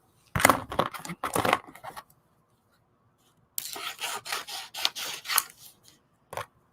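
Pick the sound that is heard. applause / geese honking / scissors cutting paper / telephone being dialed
scissors cutting paper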